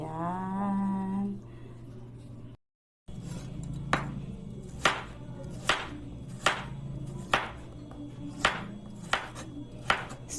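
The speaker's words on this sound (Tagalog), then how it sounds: "Slice na natin yung ating mga gulay. Para gisa-gisa na lang." Knife slicing chayote and carrots on a cutting board for sautéing, a steady series of crisp, close chops coming roughly every half second after a brief pause, with faint background hum.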